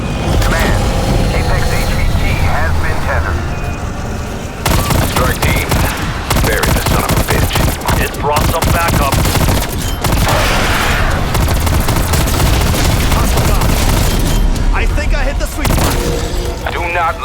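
A Stoner LMG firing in a video game, with loud, dense, sustained automatic bursts mixed with booms and aircraft-like roar, continuous and close throughout with game voices faintly under the barrage.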